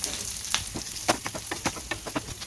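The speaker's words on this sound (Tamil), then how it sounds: "வெங்காயத்தை நல்லா வதக்கிப்போம் இந்த அளவுக்கு வதக்கிட்டோம்" Onions sauté in a pan with fenugreek, cumin and ground spice powder, a steady close sizzle broken by repeated scraping stirs, with no talking.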